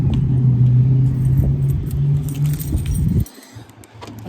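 Car keys jingle and rattle close by over a steady low engine hum, which cuts out partway through while the light metallic clinking continues.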